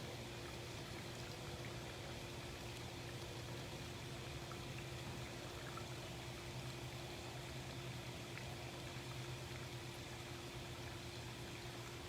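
Water flows into a pool in a tiger's enclosure at a big cat rescue sanctuary, a faint, even, continuous wash with a steady low hum beneath it and no voices.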